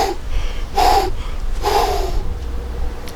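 A person breathes loudly and forcefully through the nose during a kettlebell jerk exercise, with two sharp snorting exhalations about a second apart, close and clear over faint background noise.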